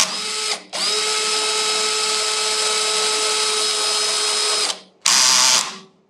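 A Bosch or Black and Decker homeowner battery drill whirs at steady speed for about four seconds after a brief first burst, cuts out, then gives another short whine, alone and close.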